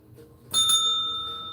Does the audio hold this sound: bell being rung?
yes